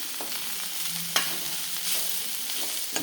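Food sautés in a ground spice paste, giving a steady close frying sizzle with soft stirring scrapes and one sharp clink partway through.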